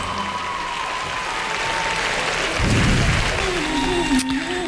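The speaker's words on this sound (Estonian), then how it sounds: "Suur aplaus." Applause from a dance competition audience at the close of a youth age-group final, a dense, steady crowd clapping that swells midway with some voices mixed in.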